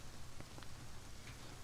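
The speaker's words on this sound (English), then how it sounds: "it's a rainy day, rainy night, and I do love a rainy night." Rain falling at night in the survival game Rust, a faint steady hiss of drops with a few soft patters, heard alone.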